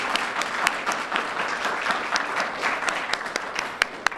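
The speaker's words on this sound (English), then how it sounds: "So please, would you help me give them a round of applause," Crowd at a traffic safety campaign event applauding in appreciation, a steady wash of many hands clapping with sharper individual claps standing out, loud and continuous without talk.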